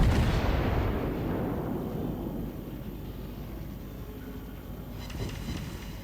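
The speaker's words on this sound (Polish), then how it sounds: "I tu będzie ostatnia salwa, zanim Ajała schowa się za wyspę" The battleship Georgia fires a main-gun salvo in World of Warships, a heavy booming blast that rolls off into a long rumbling decay, with a second fainter thump near the end.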